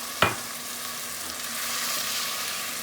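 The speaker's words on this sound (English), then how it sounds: "we're going to take our vegetable stock or broth, and we're going to put that in just a little at a time" Vegetable broth poured a little at a time into a pan of sizzling Tropea red onions gives a sharp hiss at the start, then settles into a steady frying crackle that carries on alone.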